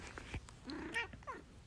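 A pet cat meows a few times close by in a quiet room where a printmaking session with a brayer is underway, its short calls clear and alone without talk.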